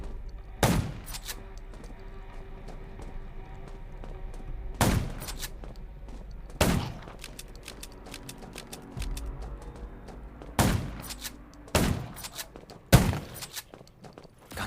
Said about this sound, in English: Gunshots will attract more zombies.